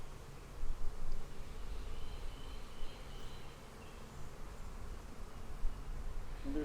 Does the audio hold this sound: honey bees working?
yes